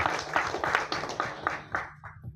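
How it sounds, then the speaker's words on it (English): Audience applause at a celebrity speech event, a burst of clapping that swells and then thins out toward the end, fairly distant and soft with no talk over it. "Once more, round of applause to Suren for being our inspiration."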